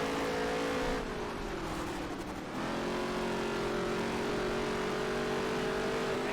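A stock race car engine in the NASCAR Heat 3 video game holds a loud, high sustained whine, dipping briefly in pitch before revving back up, heard alone without talk.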